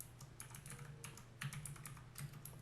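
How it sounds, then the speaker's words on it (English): Quiet, rapid clicking of keys on a computer keyboard as a command is typed in, uneven bursts of close, faint keystrokes with no talk. "Okay, so let's type it in."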